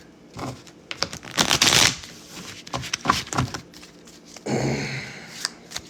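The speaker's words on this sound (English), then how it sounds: "We're going to shuffle again." Crisp riffling bursts of cards being shuffled, a fast fluttering cascade followed by softer taps and a second riffle, close and alone.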